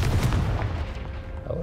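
A Confringo fire-blast spell in Hogwarts Legacy goes off as a loud, close boom with a deep rumbling tail that fades over a second or so.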